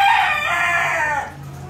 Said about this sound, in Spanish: Miren cómo va quedando el gallo